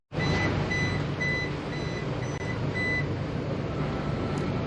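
A boat's AIS alarm sounds as a series of short, regular high beeps over a steady engine and wind rumble aboard a vessel cruising near Awendaw, South Carolina, moderately loud and without talk.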